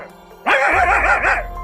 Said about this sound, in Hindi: अरे ये कुत्ता कहाँ से आ गया?